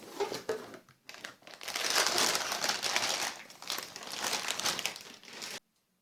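Crinkling and rustling of packaging as a Gigabyte B450M S2H motherboard box is opened, steady crackly handling noise for about five seconds, close and fairly loud, then cutting to silence.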